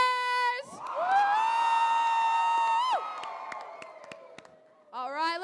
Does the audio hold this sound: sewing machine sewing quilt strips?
no